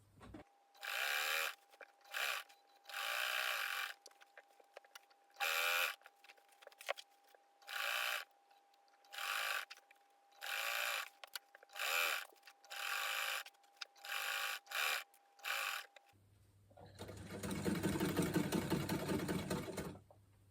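A domestic sewing machine stitches a seam on Regency-style pantaloons, running in about a dozen short bursts separated by brief pauses, then ending with a longer, louder continuous run; no one speaks.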